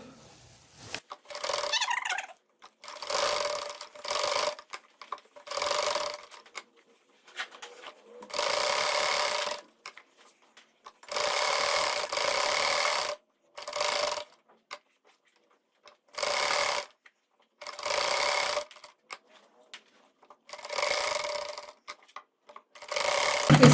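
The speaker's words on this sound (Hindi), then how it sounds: "अब मैं इसके साथ साथ आउटर साइड पर जो है वो सिलाई लगाऊंगी।" A sewing machine stitches a blouse boat neckline with piping, running in repeated bursts of steady mechanical whirring with short quiet pauses between them, loud and close, with no talking.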